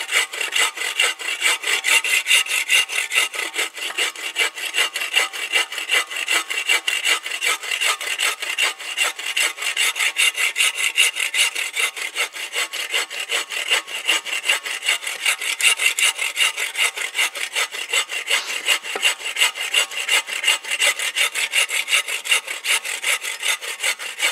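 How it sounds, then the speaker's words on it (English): A hand saw cuts through wood at a winter campsite: close, loud, rhythmic back-and-forth strokes rasp steadily for the whole stretch, with no talking. "this is a pretty good little saw"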